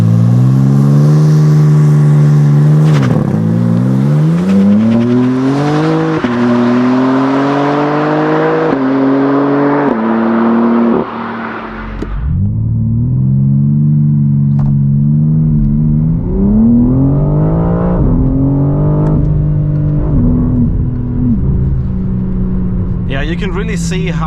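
BMW M4 CSL with 550 hp accelerating hard uphill toward 300 km/h, engine note climbing through repeated gear shifts, loud and close, with a brief pause mid-run and a person talking over it.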